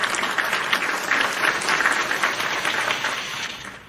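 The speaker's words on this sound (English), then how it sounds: "Evil Ghost, round of applause." Applause fills the whole clip, a dense patter of many hands clapping at steady, fairly loud volume with no voices over it.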